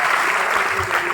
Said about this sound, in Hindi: जोरदार ताली होनी चाहिए नीरज के लिए।